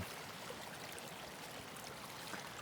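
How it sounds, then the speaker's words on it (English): A tiny stream flows at an off-grid building site, a faint, steady broadband trickle with no voices, continuous and even throughout. "it didn't look like there was as much water as seems to now be flowing through there"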